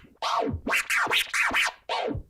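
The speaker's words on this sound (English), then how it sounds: "The rhythm scratch is made of 5 baby scratches." A DJ works a turntable by hand in a rhythm scratch built from five baby scratches, with no crossfader. Five sweeping, swooshing strokes sound loud and close in a quick, uneven rhythm with a short gap before the last one, and no talking.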